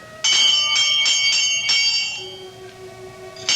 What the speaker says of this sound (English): I reach out and pull the bell.